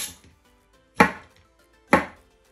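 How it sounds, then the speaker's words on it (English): Two sharp knife chops on a cutting board through cooled broccoli, about a second apart, close and crisp with quiet gaps between. "we are going to chop them as small as possible"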